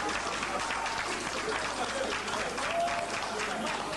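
Applause fills a political party auditorium, a steady broadband patter of many hands that carries on evenly, with voices mixed in underneath.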